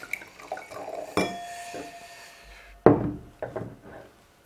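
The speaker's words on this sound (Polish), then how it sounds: "ale już leję wino." Primitivo red wine is poured into a glass at home. A bottle clinks against glass, then liquid glugs and sloshes close up, with a few more knocks and a short pour before it falls quiet.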